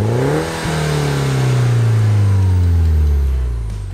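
A classic Mini Cooper engine revs hard at close range, its pitch climbing and then sliding down in a long, loud drone as the revs fall away.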